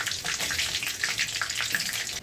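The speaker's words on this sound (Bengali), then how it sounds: "মশলাটা একটু ভেজে নেব।" Whole bay leaf, green cardamom, cinnamon, five cloves and cumin seeds sizzle in hot oil, a steady close crackle with small pops throughout.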